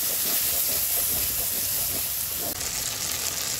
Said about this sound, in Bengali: লবণ, দিয়ে মশলাটাকে ভালো করে কষিয়ে নেব।